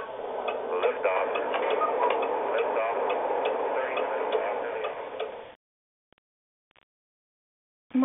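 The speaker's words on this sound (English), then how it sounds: "My dad and his silly rocket clock." Rapid, regular ticking from a rocket clock under a busy band-limited background for several seconds, then near silence with a couple of faint clicks.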